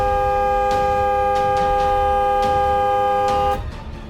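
A car horn blares in one long, steady, loud honk in a Hindi horror story, cutting off abruptly near the end and leaving a low rumble.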